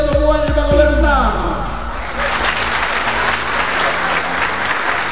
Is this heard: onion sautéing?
no